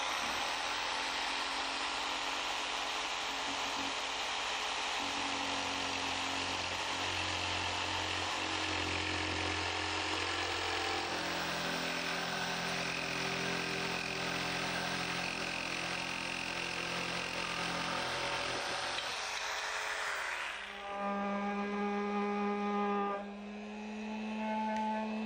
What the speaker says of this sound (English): I'm going to use my handheld jigsaw to make both the straight and the curved cuts.